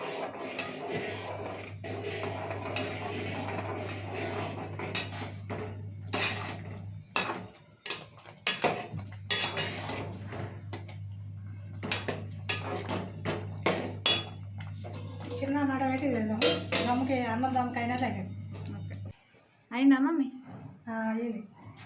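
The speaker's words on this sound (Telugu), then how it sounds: "కంటిన్యూస్గా కలుపుతూనే ఉండాలి లేకపోతే ఉండలు ఉండలు కట్టేస్తుంది" Upma is stirred continuously in a pan, with a spoon clanking and scraping against the metal in irregular knocks, under near-constant talking and a low steady hum.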